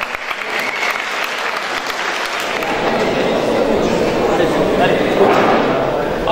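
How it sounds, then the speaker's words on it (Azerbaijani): A crowd gathered around a fighting ring applauds for Elçin at a competition's final night, the clapping swelling into a loud, sustained roar. "bir də Elçin müəllimi alqışına xahiş edirəm"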